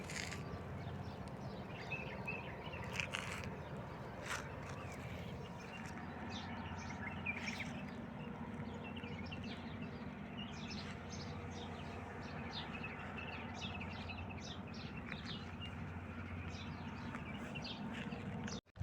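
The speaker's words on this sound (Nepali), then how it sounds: "चराचुरुङ्गी चिरबिर चिरबिर आवाज गर्छ।" Birds chirp and tweet in scattered short calls across a green palm jungle in Saudi Arabia, fairly distant over a steady low rumble of wind or background noise throughout.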